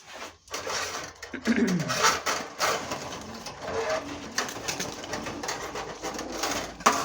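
Soft pigeon cooing and fluttering close by as pigeons are packed into a box, mixed with rustling and handling noises in an uneven, busy rhythm.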